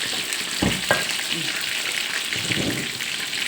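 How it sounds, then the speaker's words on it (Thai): Sea bass frying in oil over low heat, a soft steady sizzle and crackle with a few brief clatters and stirring noises, heard close and moderately quiet. "ทอดไฟอ่อนก่อนนะเดี๋ยวมันจะไหม้นะ"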